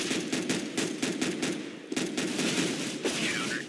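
Rapid automatic gunfire from the video game CS:GO, dense bursts of shots rattling continuously and loudly with only brief gaps, heard alone without talk.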